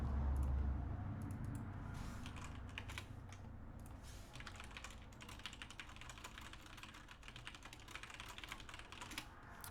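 Rapid keystrokes clatter on a computer keyboard, a quiet, irregular stream of close clicks and taps that continues steadily, with a low hum underneath at the start.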